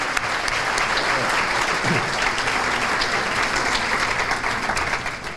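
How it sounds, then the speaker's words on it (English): Steady, full audience applause at an education awards celebration honoring this year's nominees, a dense wash of many hands clapping continuously and loudly throughout. "let's give a round of applause to all of this year's nominees"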